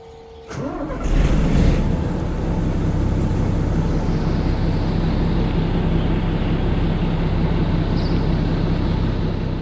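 A Bison military vehicle's engine cranks and catches on a Titan 4024 battery, then settles into a loud, steady, close running roar.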